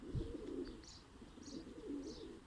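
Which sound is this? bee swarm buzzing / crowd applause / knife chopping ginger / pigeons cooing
pigeons cooing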